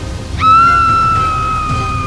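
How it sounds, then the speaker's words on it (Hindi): A cartoon witch lets out a single sustained, high-pitched scream as holy water splashes onto a mirror, starting abruptly and holding loud over a low background rumble. "जिससे चुड़ैल चीखने लगती है।"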